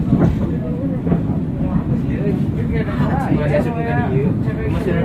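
Local commuter train in Bandung slowing near Gede Bage station, a steady loud rumble of wheels and carriage from inside, with faint rhythmic clicks and people talking over it.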